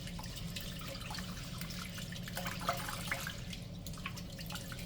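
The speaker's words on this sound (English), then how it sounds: "I'll put plenty of water in it to soak" Water poured into a saucepan of rice for soaking, a steady trickling, dripping wash of liquid heard close and continuous throughout, with a low hum underneath.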